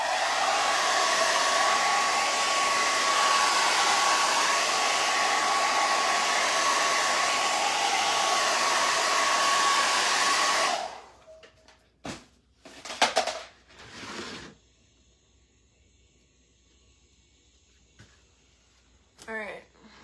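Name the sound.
hair dryer drying paint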